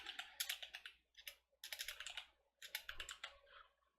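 Rapid keystrokes on a computer keyboard while a server command is typed at a command line, coming in three close, busy bursts separated by short pauses, fairly quiet and with no talking.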